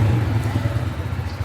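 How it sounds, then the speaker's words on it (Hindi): Honda Freedom 125 CNG motorcycle idling, a steady low burbling exhaust note with a fast rhythmic pulse, close and alone without talk. "एग्जॉस्ट नोट सुना देता हूँ मैं आपका।"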